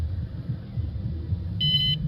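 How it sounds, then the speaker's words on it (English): A brief high-pitched electronic beep from a Ford Transit campervan's alarm sounds near the end over a low rumbling background. "That beep is so high pitched"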